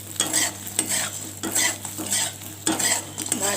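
Fish roe and two pieces of fish bone frying in a pan, a sizzle under repeated metallic scrapes and clinks of a spatula stirring and turning them, close and uneven, without talk.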